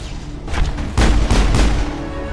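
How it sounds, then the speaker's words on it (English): Loud gunfire from the video game Mass Effect: a few heavy, booming shots in quick succession, the strongest bursts close together in the middle, with low rumble trailing between them. "the gunshots sound very loud to me."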